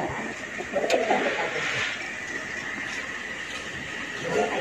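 Pigeons coo softly in a few low bursts at a rooftop loft, with someone talking nearby over faint background noise.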